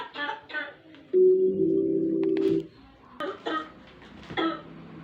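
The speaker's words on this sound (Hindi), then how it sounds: "खांसी भी भैया कैसे कैसे तरीके की होती है" A man coughs in a few rough bursts with a sustained wheezy tone between them, close and clear, with quiet room sound around.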